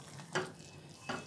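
Palak chicken gravy with cream bubbling in a pan, two soft spluttering bursts over a faint simmering hiss, quiet and close.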